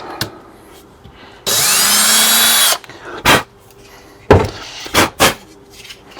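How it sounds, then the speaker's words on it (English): A power drill whirs loudly for about a second as it bores a hole through a guide hole while fitting speakers in a Ford F-150, followed by several sharp clicks and knocks nearby. "Take the drill, line it up on the guide hole."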